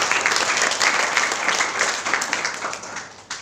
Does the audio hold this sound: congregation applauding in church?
yes